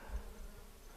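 A bee hovers around a bush outdoors, a faint continuous buzz with slight wavering, heard alone without talking.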